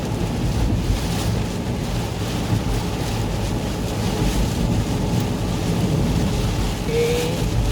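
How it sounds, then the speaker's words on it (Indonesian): Steady, dense roar of heavy rain and gusting wind buffeting the microphone on a toll road near Surabaya–Gempol, continuous throughout with no voices. "Hujannya cukup deras dan berangin"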